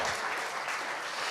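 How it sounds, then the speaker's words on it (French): A crowd applauds as a hacking team is invited onto the stage at a trophy ceremony, a brief, even burst of many hands clapping, moderately distant and steady. "On les invite à monter sur le plateau, évidemment, sous vos applaudissements"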